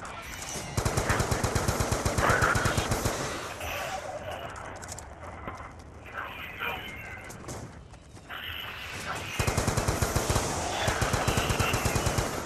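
An MP5 submachine gun fires in Call of Duty Zombies on the Die Rise map: loud rapid automatic bursts with a brief pause midway, then continuous fire again, with faint game sounds between.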